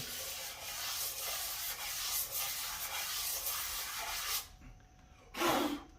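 Aluminum piston crown sanded by hand on 220 grit paper, a steady close scratchy rubbing for about four seconds, then a short pause and one more brief stroke, with no voices.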